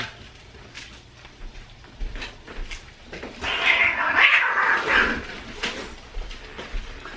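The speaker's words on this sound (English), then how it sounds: "it may sound like my cats are fighting" Two house cats scuffling, one fighting while the other plays, with hissy yowling meows swelling in the middle over quiet indoor background, no speech.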